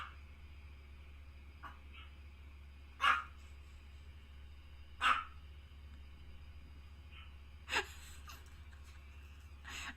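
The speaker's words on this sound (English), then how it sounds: "can hear Zeus barking on the camera" A dog named Zeus barks outdoors at a distance, three short separate barks spaced a couple of seconds apart over a steady low background hum on a windy evening.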